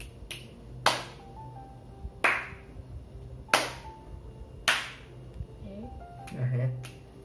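Several sharp, isolated hand claps or snaps in a quiet room during a condenser microphone test, spaced irregularly about a second apart and close to the mic, followed by a brief murmur of voice near the end.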